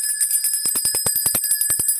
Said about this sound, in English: there's our bell right there